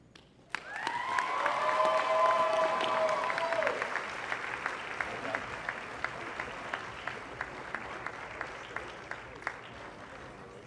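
A crowd at a wedding reception bursts into applause, loud and sustained at first, then thinning out into scattered individual claps.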